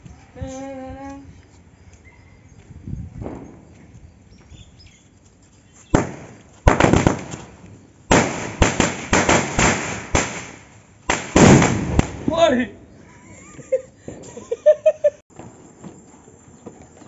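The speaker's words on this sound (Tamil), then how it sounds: "கைஸ் வெறியான ஒரு வெடி அடிக்க போகிறோம்." Diwali firecrackers burst during a family celebration: sharp, loud cracking volleys that come in dense rapid clusters, with quieter pops between them.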